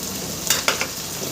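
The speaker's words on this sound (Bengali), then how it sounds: "পেঁয়াজটা আমি সুন্দর করে এবার ভেজে নেব" Onions frying in a kadai for a mutton curry, giving a steady close hiss of sizzling oil with a few brief stirring scrapes and crackles, no voices.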